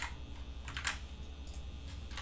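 Fast typing on a computer keyboard, quiet and close, with light irregular clicks and a few louder keystroke bursts over steady background hiss, no voices.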